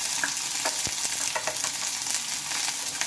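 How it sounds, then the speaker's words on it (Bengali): Finely chopped onions fry in hot oil in a pan, a loud, dense sizzle running unbroken throughout, with faint stirring scrapes mixed in. "এবার পেঁয়াজটাকে একটু ভালোভাবে ভেজে নিতে হবে।"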